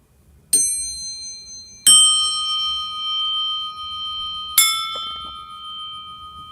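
Three bright bell strikes ring out one by one, each chime loud and clear, then slowly decaying into a long shimmering tail.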